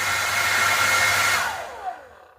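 Philips BHD538/30 hair dryer on high speed and hot setting, a steady loud airy whoosh with a faint whine that cuts off and winds down near the end.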